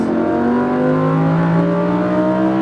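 A Lamborghini Huracan accelerates hard on a track, its engine note rising steadily in a loud, close, rising wail with strong harmonic tones.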